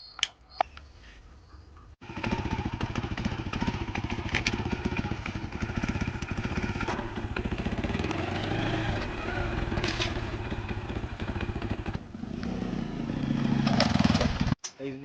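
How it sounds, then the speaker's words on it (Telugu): A motorcycle rides along steadily after a U-turn. Its engine gives a continuous, fairly loud drone with wind rumble for most of the stretch, after a brief quieter start. "బైక్ని కాస్త యూటర్న్ చేసి"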